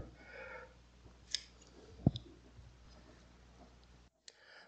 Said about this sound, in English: so I just kind of reach in here and cut a bunch